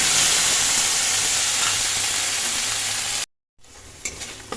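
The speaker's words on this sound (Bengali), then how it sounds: "এবারে আমি যে গোটা জিরে, আদা, কয়েকটা লঙ্কা নিয়েছিলাম সেটাকে পেস্ট করে এই তেলের মধ্যে দিয়ে দিচ্ছি" Paste of whole cumin, ginger and chilies sizzles loudly in hot frying oil during cooking of a fish recipe, a steady dense hiss that cuts out abruptly, then resumes more faintly with small crackles.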